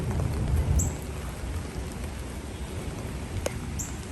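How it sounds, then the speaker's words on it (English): Steady rain falls over an outdoor cemetery, a dense continuous hiss with a low rumble near the start and a few isolated sharper drips. "it is raining here today"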